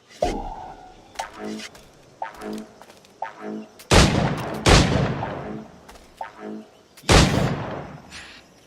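Gunfire at targets in the video game Assassin's Creed IV: Black Flag, a series of sharp cracks at uneven intervals, several louder booming shots among them, close and loud with quiet gaps between.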